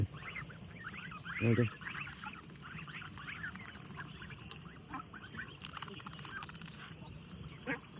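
Farm ducks honk repeatedly at close range, their calls mixed with other fowl, and a strong burst stands out early on.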